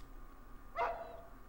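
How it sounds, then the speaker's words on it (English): A single short dog bark in the horror game Rule of Rose, faint and somewhat distant, standing alone over a quiet, dim background. "just heard a dog bark"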